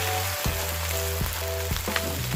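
Rice with grilled fermented pork (naem) stir-fries in a hot pan or wok: a loud continuous sizzle broken by several sharp spatula scrapes and knocks at irregular intervals.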